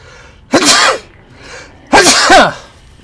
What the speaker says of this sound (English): The sneezes.